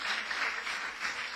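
Congregation at a Spanish-language church service giving a strong offering of applause, a brief dense wash of clapping from many hands, loud and continuous without any voices.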